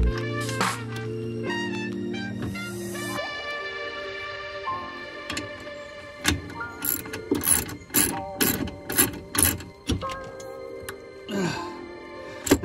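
A bolt is threaded and tightened on a 2015 Club Car Precedent golf cart: metallic clicks and rapid ratchet-wrench ticking come up close in uneven bursts, growing sharper toward the end.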